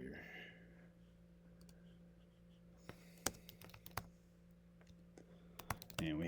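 Typing on a computer keyboard comes through as sparse, sharp key clicks in short bursts over a low steady hum, fairly quiet and close, with a brief voice at the start.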